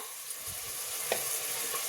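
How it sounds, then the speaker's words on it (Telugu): Tomatoes frying in a pan give a steady, even sizzling hiss throughout, with a faint stir or two and no talking. "ఈ టమాటో అంతా బాగా ఫ్రై చేసుకుందాం."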